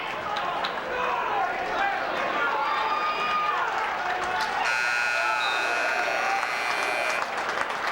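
A buzzer sounds over a loud, cheering crowd at the end of a college wrestling match, with an announcer talking throughout the noisy arena.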